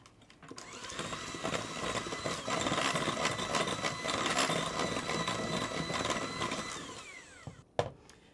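An electric mixer creaming cake batter with vanilla and an egg hums steadily at close range for about seven seconds, then winds down and stops with a brief clatter.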